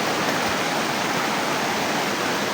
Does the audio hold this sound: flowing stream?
yes